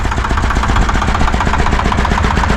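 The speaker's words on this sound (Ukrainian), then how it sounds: "Трактор працює" A Shifeng 240 mini tractor engine runs steadily at close range while ploughing, loud and chugging with a rapid, even pulse, no voices over it.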